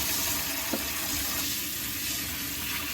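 Tap water runs steadily while produce is washed under it, a close, continuous hissing splash with a brief clunk partway through and no talking.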